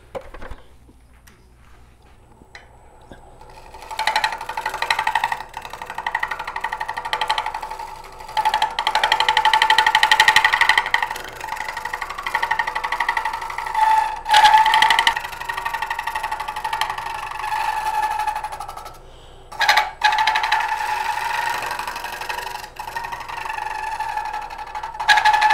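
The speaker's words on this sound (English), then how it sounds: "I'm going to be using the lower wing of the bowl gouge only, and I'm going to make a just sliding moves right across this curve" A bowl gouge cuts a live-edge wooden bowl on a lathe, a sustained whirring, humming cut that swells and fades over long sliding passes, with brief breaks and a quieter lathe drone between.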